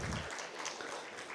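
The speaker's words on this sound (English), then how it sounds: "Can we give the panelists a huge round of applause," Applause from a business conference audience for a panel of speakers, a dense wash of clapping that stays steady and fairly loud through the short burst.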